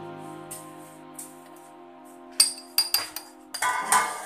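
Homemade apple jam goes into a glass bottle, with a quick run of sharp glass clinks and taps near the end over a steady background hum.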